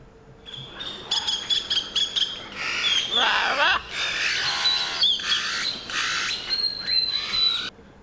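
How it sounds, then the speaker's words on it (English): A hooded oriole in Honduras sings and chatters loudly at close range, a run of quick chirps that turns into dense, harsh scolding notes and whistled phrases lasting several seconds. "And hooded oriole, a very common bird throughout the region."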